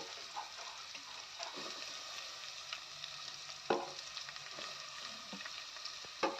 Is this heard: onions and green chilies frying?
yes